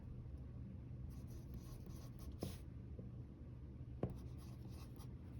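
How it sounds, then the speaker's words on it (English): Pen writing on paper, a faint scratching under low room hiss with a couple of brief taps, close and quiet. "So I'm going to write that down."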